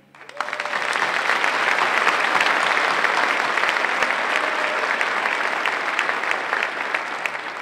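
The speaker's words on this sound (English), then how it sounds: "I would like to thank with a round of applause the great job by the Kinnick High School Band." A graduation crowd at Kinnick High School gives the school band a round of applause, the clapping swelling within the first second into a loud, dense roar and holding steady to the end.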